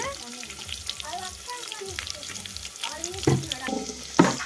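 Tempering spices including dried red chilies crackle and sizzle in hot oil with stirring clatter, a few sharper pops standing out near the end, fairly close.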